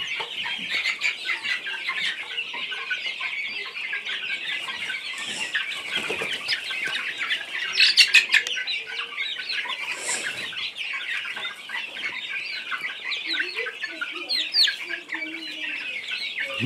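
Chickens clucking steadily in a farm coop on a cold day, with brief bursts of wing flapping and scratching around the birds, close by and continuous with no talking.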